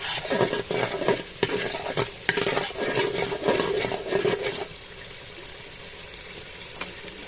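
A spatula scrapes and stirs spices with chili, turmeric and coriander powder in a hot pan, giving rhythmic clattering strokes over a sizzle before the stirring stops and a softer frying hiss carries on alone.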